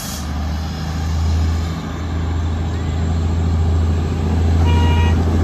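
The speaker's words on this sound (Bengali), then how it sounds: "এই দেখো টয় ট্রেন আসছে।" The Darjeeling toy train approaches at Batasia Loop with a loud, steady low engine rumble and a brief high toot near the end.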